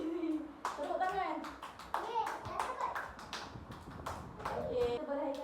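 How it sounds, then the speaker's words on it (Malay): Children in a classroom clap their hands together in a loose, scattered burst of applause, with young voices talking and calling out over the clapping throughout. "Semua boleh berikan tepuk tangan kepada diri sendiri."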